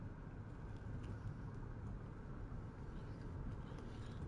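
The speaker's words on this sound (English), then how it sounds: "The limo slowly drives away." A limousine pulls away in the video game Vampire: The Masquerade – Coteries of New York, a steady low engine rumble and road hum holding at moderate level, with no voices.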